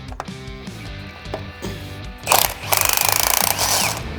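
Impact-style power tool bursts working on leaf spring bolts of a Ford F150 during a lowering kit install, with a short hammering burst followed by a longer rapid rattling run, loud and close over a steady background hum.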